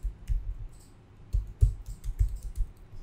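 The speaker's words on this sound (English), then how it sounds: "type a password, okay, type an email address" Keys clatter on a computer keyboard in irregular bursts of close, crisp taps with short pauses between, as a password and email address are entered during a server install, with no voices.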